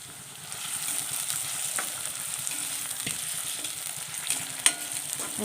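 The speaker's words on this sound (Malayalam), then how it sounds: "മാങ്ങാഞ്ചി മുഴുവനും ഇട്ട് കൊടുക്കാം ഇത് ബ്രൗൺ നിറം ആകുന്നത് വരെ വറുത്ത് കോരി പൊടിച്ചെടുക്കണം" Mango ginger fries in hot oil with a steady, close sizzle, broken now and then by soft scrapes and taps as it is stirred until brown.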